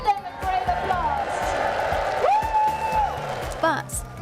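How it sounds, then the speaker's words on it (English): A large outdoor crowd of redheads gathered in Breda claps and cheers, a dense close applause with whoops, while a loud voice speaks over it. "Give them a great applause!"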